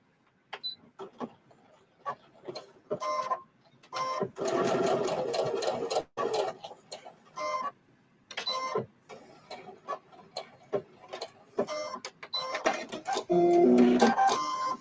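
A sewing machine stitches fabric for a pin cushion and scissor holder in repeated stop-start runs of close, rapid whirring, with a person talking between the bursts.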